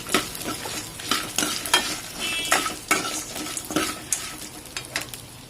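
Spices and dried red chilies sauté in a pan for Thirunelveli-style karuvattu kulambu masala, with a steady crackling sizzle and repeated scraping stirs of a spatula, close and fairly loud, no voices.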